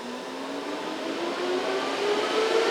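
Cooling fans on an RX 6600 GPU mining rig spin up, a steady broadband whoosh that rises gradually in pitch and loudness, with a faint climbing whine running through it and no talking.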